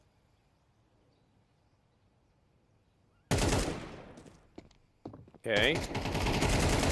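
Bursts of AK rifle and Desert Eagle pistol fire in a Counter-Strike 2 match, coming in loud dense volleys after a quiet stretch, with a brief gap between them and a short spoken word.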